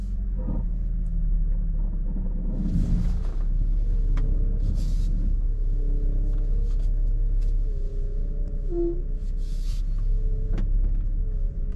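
An old car driving along steadily, its engine rumbling low and continuous with some rattling, loud and close throughout with no talk.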